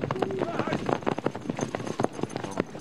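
Horse hooves clip-clopping at an equestrian club that teaches fantasia riding: a steady, moderately close run of hoofbeats, partly masked by an overlapping voice and background noise.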